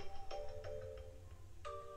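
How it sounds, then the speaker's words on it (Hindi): A mobile phone ringing with an incoming call indoors, a faint electronic melody of short chiming tones that step between pitches in a repeating pattern, quiet and alone. "गाइस देखो फोन आ गया, इतना बिजी रहता हूँ।"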